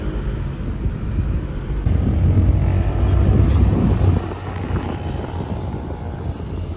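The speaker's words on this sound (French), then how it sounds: "si c'est Chiron qui passe dans les mêmes rues que la LaF verte au final" A Bugatti Chiron Hermes supercar passes along a Paris street, its deep low rumble swelling loudly for a couple of seconds before dropping back into steady street and traffic noise.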